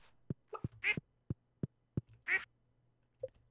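Duck quacking in Stardew Valley: two loud quacks rise over a series of soft footstep-like taps and small game sounds in a quiet setting, with no voices.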